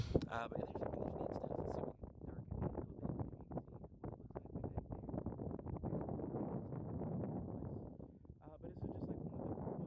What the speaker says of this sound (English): Again, sorry, it's going to get windy.